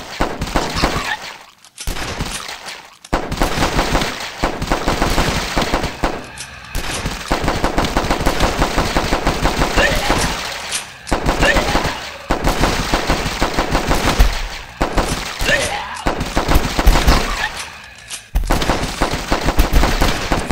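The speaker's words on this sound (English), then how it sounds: "I'm shooting fucking BBs at them at this point" Sustained automatic gunfire in The Last Stand zombie-defense game on night two, rapid loud bursts of shots pouring out almost continuously with brief gaps, no talking heard.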